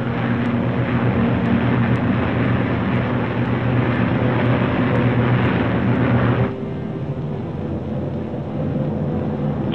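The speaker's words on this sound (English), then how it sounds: "The Mustangs climb in formation to take positions above the boxes of B-29s." B-29 bombers and Mustang fighter planes flying together in formation make a continuous, heavy drone of many engines that drops to a softer level partway through.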